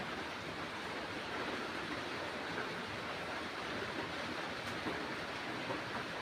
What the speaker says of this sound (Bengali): এখন অল্প গরম পানি দিব